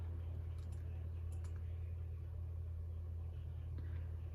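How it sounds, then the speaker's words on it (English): A car engine idles outside as a steady low rumble that runs throughout, with faint clicks and small sounds above it and no talk. "There's a car running though."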